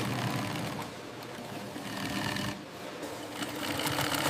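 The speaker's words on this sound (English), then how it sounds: "Heavy-duty machines stitch the leather pieces together." Heavy-duty industrial sewing machines stitch crocodile leather jacket pieces in a factory, with a dense, continuous mechanical whir and rattle that dips briefly twice before resuming, close and loud, with no talking.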